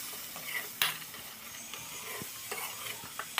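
A spoon stirs masala frying in oil for a paneer curry, with soft steady sizzling broken by sharp scrapes and clinks against the pan, close and alone.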